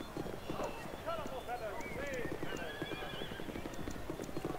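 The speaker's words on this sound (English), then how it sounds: "I hear a horse whinnying." A horse in the Treadwell video game whinnies several times amid steady clip-clopping hooves, the neighs rising clearly over a busy background while someone speaks over it.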